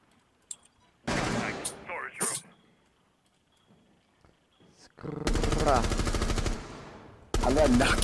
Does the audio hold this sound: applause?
no